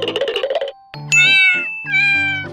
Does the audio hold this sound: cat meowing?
yes